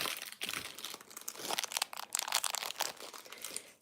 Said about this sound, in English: I'm gonna unwrap these and not leave them in the wrapper